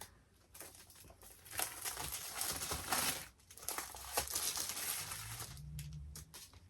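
Folded paper is pried open for an origami-style prompt jar, giving close, continuous crinkling and rustling with a few sharper tearing bursts, then quieting at the end.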